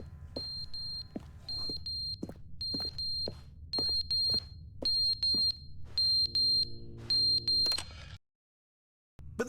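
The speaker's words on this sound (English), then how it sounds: "Like battery run out on a fire alarm." A string of evenly spaced, piercing electronic chirps from a low-battery fire alarm in The Stanley Parable Ultra Deluxe, repeating steadily over a low hum before cutting to sudden silence near the end.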